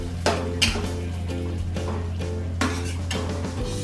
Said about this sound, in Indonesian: Jadi kita tumis terlebih dahulu.